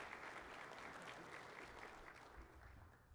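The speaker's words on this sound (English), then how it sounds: "Let's have a round of applause for Rich." A conference audience at a 2017 administrators' panel gives a round of applause for Rich Payne of a career and technology center, faint, dense clapping that thins slightly toward the end.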